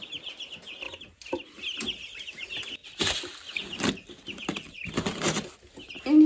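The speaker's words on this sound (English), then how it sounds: "In here we have a chicken coop, and in the winter all the chickens were here, but now it's just the dwarf chickens." Dwarf chickens clucking inside a farm chicken coop: scattered close clucks and soft calls with wing flaps and rustling, moderately quiet, with no talking.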